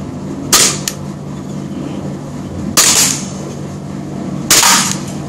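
Three sharp, loud reports from a prototype Glock G17 Gen4 BB pistol, fired one at a time with roughly two-second gaps over a low steady hum, no talking.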